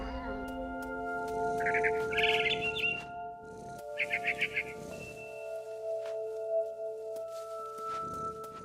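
Panicked chirping of a barn swallow in the video game What Remains of Edith Finch comes in two short, rapid bursts over a steady hum of ambient game music and tones.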